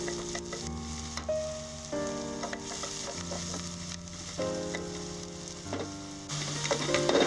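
Small shallots fry on a low flame and get stirred in a pan for a South Indian prawn curry, with a soft sizzle under steady background music that has sustained tonal notes.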